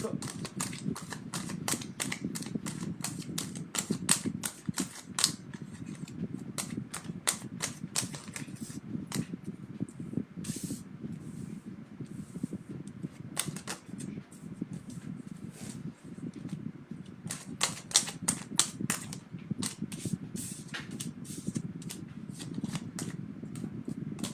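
A deck of cards is shuffled and cut during a card-reading session, with repeated quick riffling bursts and crisp flicks over a quiet room.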